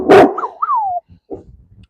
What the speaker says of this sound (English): It's a big ass dog.